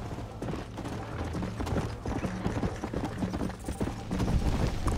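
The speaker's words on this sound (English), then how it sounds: "The horse riding is different though from the second game." Horse hooves pound in a steady galloping clip-clop during a ride in the video game Red Dead Redemption, continuous and close over a low background rumble, with no talking.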